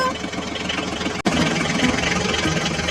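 A tractor engine runs steadily while driving on, a loud continuous mid-to-low rumble with one brief dropout partway through, no talk over it.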